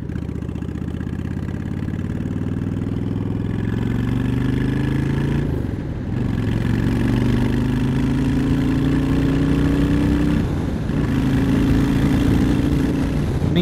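A Honda Shadow 750 Aero motorcycle with a spike air intake accelerates through the gears, its engine rising steadily in pitch, dropping briefly at each shift, then climbing again, loud and close with wind noise.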